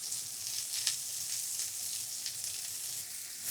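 Mushrooms sautéing in oil in a pan, a steady, soft sizzle and crackle with faint spitting pops, heard close and alone with no talking.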